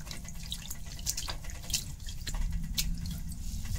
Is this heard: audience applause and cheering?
no